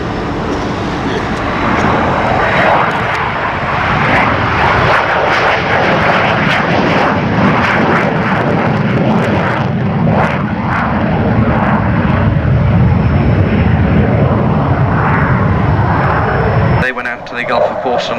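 Blackburn Buccaneer jet flying past at an air display in dirty configuration, coming in from the right, a loud sustained engine roar that swells and rumbles before cutting off near the end, with a commentator talking over it.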